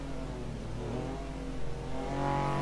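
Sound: kei car racing at Sepang circuit

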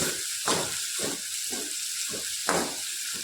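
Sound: onions sautéing in a pan

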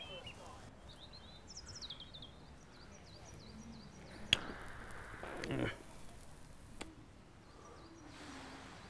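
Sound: birds singing outdoors

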